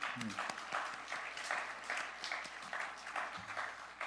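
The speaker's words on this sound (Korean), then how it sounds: "우리 한번 감사의 박수 한번." Faint applause of thanks from a congregation at a university chapel worship service, a soft steady patter of clapping heard at a distance with some murmuring underneath.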